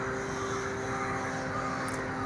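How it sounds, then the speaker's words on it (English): Birds call faintly outdoors at sunset during an evening yoga and meditation session, under a steady broadband hiss with a few steady tonal lines and one brief higher chirp near the end. "I don't know whether you can make out the difference in the bird sounds"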